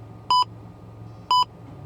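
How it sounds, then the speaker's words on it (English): An in-car radar detector in a Japanese car gives two short, loud electronic beeps exactly one second apart, each a clean pure tone over a low engine-like rumble. "As you're getting closer to the radar, and then beeps go faster"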